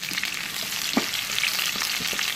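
Continuous loud sizzling of chicken sautéing in a hot pan for sweet soy sauce chicken, with occasional soft scrapes and stirs.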